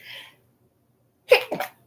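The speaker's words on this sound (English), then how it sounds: "Excuse me, I'm sneezing." A person sneezes once, close and sharp: a brief inhaled breath, a pause, then an abrupt two-part burst that cuts off into silence.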